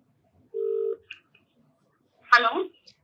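A short telephone keypad tone sounds once, followed by a brief click and a burst of ringing or dialing noise, all faint and isolated against near silence before a call.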